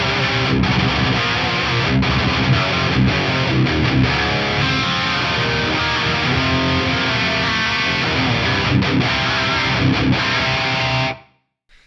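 Dense, heavily distorted electric guitar through an amp modeler's mid-gain lead model and a Marshall greenback cabinet impulse response, continuous with a touch of reverb, loud and full-bodied, cutting off abruptly near the end.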